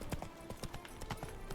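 Horse hooves clip-clop in The Witcher 3, a quick run of crisp, evenly spaced hoofbeats at moderate volume, close and alone.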